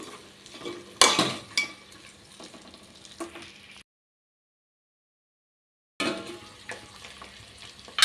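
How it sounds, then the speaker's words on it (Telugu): Mango pieces sizzling in oil in a pan for sambar, stirred with a spoon: a loud scrape, then softer stirring over a steady fry, a stretch of total silence, then the sizzle and stirring return. "మామిడికాయ ముక్కలండి అన్నీ కూడా ఇలా చక్కగా కుక్ అవనిద్దాము"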